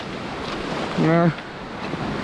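Sea waves and wind off the coast of Antigua make a continuous wash and buffeting noise, broken midway by a brief, clear tonal sound.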